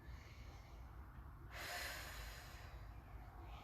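A single long, deep breath swells out of a steady background hiss, rising to a loud, airy exhale near the middle before fading back, taken while holding a yoga bridge pose during a power yoga session.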